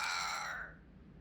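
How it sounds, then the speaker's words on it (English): A crow caws once in the video game Banishers: Ghosts of New Eden, a single harsh, bright call that fades out quickly over a low ambient background. "It's Ceridian, by way of the invisible, speaking through the crow."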